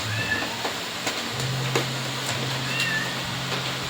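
Cats meow in short, thin calls over a steady background hiss, with a low continuous hum running underneath for most of the stretch.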